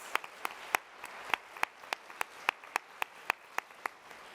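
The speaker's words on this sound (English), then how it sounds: "how about another round of applause for these amazing artists?" A luncheon audience applauds artists with steady, evenly spaced hand claps throughout, sounding like a modest crowd in a hall, with no talking over them.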